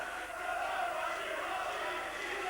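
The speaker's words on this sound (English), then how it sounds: "Now the Moylett crowd here are all standing on their chairs and chanting" A boxing crowd at a 1988 Bristol bout stands on its chairs and chants, a steady rolling roar of many voices heard from within the hall with no clear breaks.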